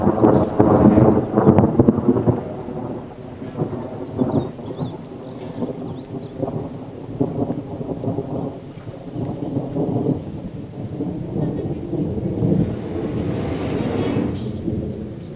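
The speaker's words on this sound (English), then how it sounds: "Grateful for the rain" Steady rain falls over a homestead pasture with bison, loud and close, with deep thunder rumbling through the first seconds and the downpour continuing evenly throughout.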